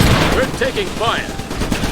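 Rapid gunfire in the Xbox 360 game Iron Brigade rattles steadily and loud under a voice and sharp electronic chirps, with no break across the moment.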